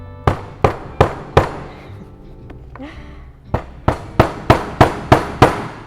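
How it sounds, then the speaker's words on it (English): Sharp metal hammer strikes drive a hole punch through material on a self-healing mat, four evenly spaced blows, a pause with brief talk, then a faster run of about eight hits. "then you're just gonna hammer until it goes through"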